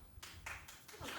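A lone audience member clapping at a daytime talk show taping, a few sparse, faint claps spaced irregularly in an otherwise quiet room.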